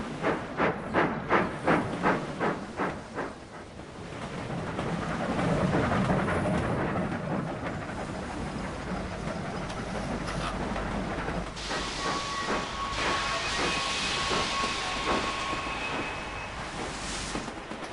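A steam locomotive in Sid Meier's Railroads! labours uphill, opening with a row of loud rhythmic chuffs that give way to a continuous rumbling hiss of rolling stock, with a thin whistle-like tone appearing later in the run.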